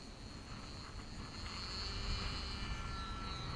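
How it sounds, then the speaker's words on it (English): A Kadet LT-40 model airplane taking off on a windy day at the flying field, its small engine droning faintly and steadily at a distance and rising a little in loudness. "Okay, so here we go, taking off again."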